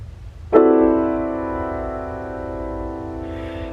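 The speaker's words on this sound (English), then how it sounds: "is this cluster chord" A single dense cluster chord struck once and left to ring, its many close notes sustaining and slowly fading over a faint low hum.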